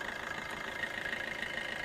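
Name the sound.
Maruti Suzuki S-Cross Alpha car engine idling smoothly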